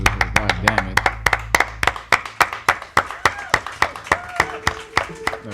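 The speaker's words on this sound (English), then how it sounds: "they started clapping with us too" Crowd of people clapping hands along with live music on a street: steady rhythmic claps, loud and close, over a sustained tone that fades early on.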